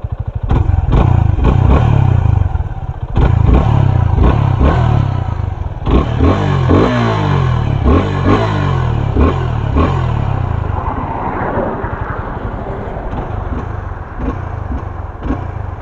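A motorcycle engine idles loud and close, then is blipped through repeated sharp revs with mechanical clatter between them, no voices over it.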